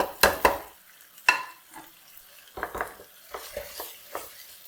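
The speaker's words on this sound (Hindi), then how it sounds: "इसको मुसलसल हिलाते रहना है ताकि जले ना नीचे से।" Chicken being stirred in a pot over a high flame with salt, chili and turmeric added: scraping spoon strokes and clatters against the metal come in irregular bursts over a faint sizzle, with no talking.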